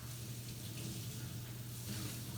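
Tap water runs steadily to rinse out a removable part of a compact espresso machine, a continuous close hiss and splash with a low hum beneath, no talking.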